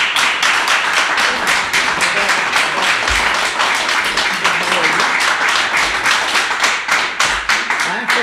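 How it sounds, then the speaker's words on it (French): Dense, sustained applause fills a municipal budget meeting hall in Saint-Marc, many hands clapping steadily and loudly throughout, with occasional thumps and faint voices buried beneath it. "il y en a qui applaudissent, là"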